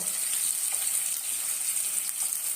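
Tempering spices and dried red chillies fry in hot oil, giving a steady, hissing sizzle at close range that stays even throughout, with no speech.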